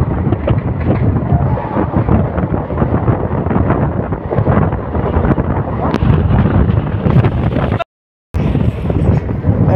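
Strong wind buffets at the open door of a moving passenger train, a loud roaring rush with constant gusty rumble that cuts out briefly near the end before resuming.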